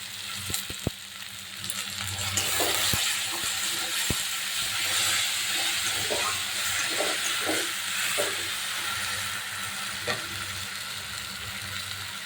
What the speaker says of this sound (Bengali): পেঁয়াজ বাটা, সব রকম মশলা বাটাটা দিয়ে দেবো তেলের মধ্যে।